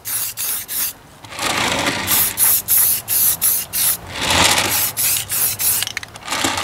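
Primer is sprayed from an aerosol can onto Ford 800 tractor parts in a rapid series of short, close hissing bursts, with a couple of longer continuous passes.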